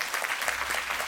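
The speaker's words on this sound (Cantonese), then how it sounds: "大家再次俾啲熱烈嘅掌聲" An audience claps warmly at a Hong Kong arts foundation performance, a dense, steady burst of applause from many hands lasting about a second.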